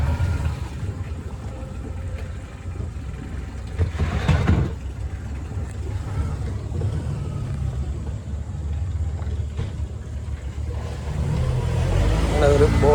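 A boat moves through the Poovar backwaters with a constant low engine rumble and churning water, near and steady, swelling briefly midway and again near the end, while people talk over it.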